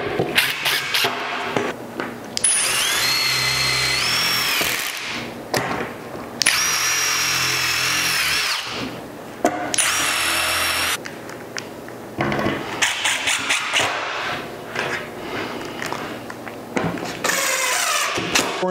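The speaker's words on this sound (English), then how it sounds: "I like to pre-sink the holes and then fill them with wood putty." Power drill pre-sinking holes in wooden cornhole boards, bursts of whining motor and bit grinding into wood, several separate runs with brief pauses between, close and loud.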